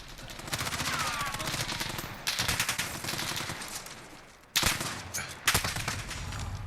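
Rapid automatic gunfire in Call of Duty Modern Warfare, dense loud bursts that briefly drop out and then resume, with a voice talking underneath.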